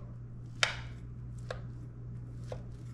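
A knife cuts into a hamburger cornbread casserole in its dish, giving three quiet, sharp clicks spaced about a second apart over a low steady hum, with no talking.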